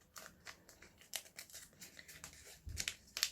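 Close, crisp snips of metal shears cutting through two metal teardrop shapes taped together with masking tape, in a series of short irregular cuts with brief pauses, ending in a heavier clipped crunch.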